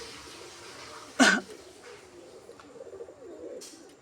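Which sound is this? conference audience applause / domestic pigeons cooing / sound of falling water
domestic pigeons cooing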